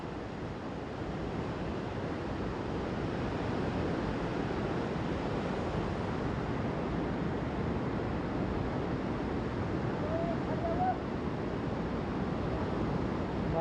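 Water discharges through the opened gates of the Mangrul dam, a steady, loud, broadband roar of rushing flow that stays even throughout with no voices.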